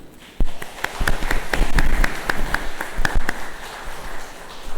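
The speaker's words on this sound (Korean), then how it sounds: "잠깐 일어나실 때 박수로 환영해 주시기 바랍니다" A church congregation claps to welcome a retired professor as he stands: a scattered run of separate sharp claps from a small group, loudest in the middle and thinning toward the end.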